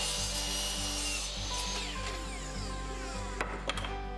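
A saw cutting through wood with a continuous grinding, whining drone, then a couple of sharp knocks near the end.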